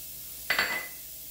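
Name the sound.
diced onions sizzling in a hot pan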